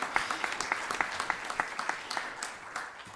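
A modest audience gives a round of applause, a fairly quiet patter of many hands with distinct individual claps standing out, fading slightly toward the end.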